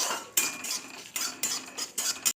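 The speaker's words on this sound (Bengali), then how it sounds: "মশলাটা আমি ভেজে নেব" Dried red chillies, whole coriander and cumin are dry-roasted in a wok, stirred in several separate scraping strokes with rattling clinks of metal on metal, close and clear with short gaps between strokes.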